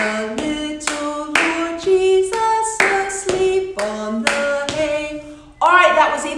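Children at a Christmas music rehearsal clap hands in a steady beat while singing along, the sharp claps punctuating sustained sung notes, close and fairly loud.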